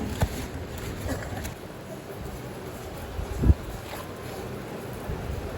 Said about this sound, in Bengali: আর দেখেন খুব ঝড় ঝাপটা বৃষ্টির মধ্যে আমরা এখন ইজি বাইকে করে বনগাঁও যাচ্ছি